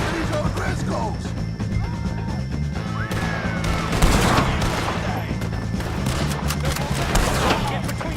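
A gunfight with O'Driscolls in Red Dead Redemption 2: dense, continuous shots and crashing impacts, with shouting voices over the top.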